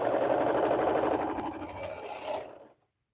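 A sewing machine stitches fabric at high thread tension, a steady, close, fast mechanical whirring that runs on and then stops abruptly.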